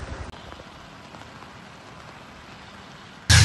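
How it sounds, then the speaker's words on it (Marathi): Monsoon rain falls steadily over Mahad and Poladpur in Raigad district, a dense even hiss throughout, ending in a sudden loud burst at the very end. "पावसाची रिमझिम ही सुरूच आहे"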